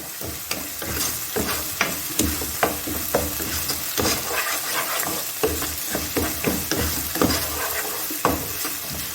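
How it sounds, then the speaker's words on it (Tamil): Onions sautéing in a pan for chilli prawns, a loud continuous sizzle broken by repeated rhythmic scrapes and stirs of a spatula, close up. "வெங்காயம் ரொம்ப டீப்பாக வதக்க வேணாம்."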